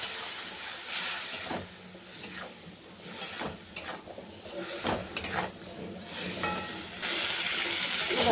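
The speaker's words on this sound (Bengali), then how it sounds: "হালকা একটু জল দিয়ে দিলাম।" Water is splashed into a cooking pan of potatoes being browned with chili powder for a Bengali fish curry: a short, hissing pour with clattering, close and moderately loud.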